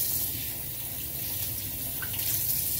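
A bathroom tap runs cool water into a sink before a straight-razor shave, a steady, close hiss of flowing water that continues unbroken throughout.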